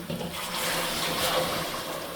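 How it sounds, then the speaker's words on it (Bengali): Water pours steadily into a curry of green banana, a close, continuous gushing splash lasting a couple of seconds. "এখন পানি দিয়ে দেবো"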